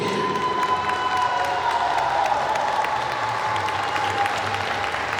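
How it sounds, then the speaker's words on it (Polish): Sustained applause for the youth football team Mineralni Krynica Zdrój at a tournament closing ceremony, a crowd clapping steadily and fairly loudly with a few cheers and children's voices mixed in. "Zapraszam i proszę o oklaski dla drużyny Mineralni Krynica Zdrój."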